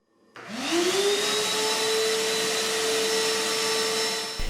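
A Dewalt 10-gallon wet/dry shop vacuum switches on and spins up, then runs as a steady, loud whine with a rising motor tone that levels off, heard alone for several seconds before cutting off.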